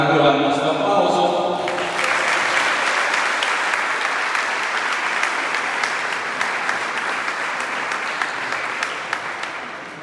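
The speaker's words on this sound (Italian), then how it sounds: "Giuseppe Sapienza del basket Zafferana, a cui va il nostro applauso." An audience at a 3x3 basketball tournament presentation claps loudly and steadily, with dense, sustained applause that begins after a voice and fades slightly toward the end.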